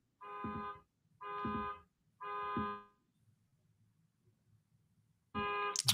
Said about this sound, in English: Please excuse the beeping in the background.